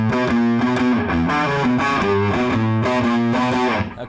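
Distorted electric guitar plays a riff: loud, sustained chords with a low open-string drone and a pull-off figure, ringing continuously alone until the last notes fade.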